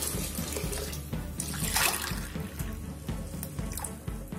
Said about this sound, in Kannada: ಇದಕ್ಕೆ ಇವಾಗ ನೀರು ಹಾಕ್ತಾ ಇದ್ದೀನಿ.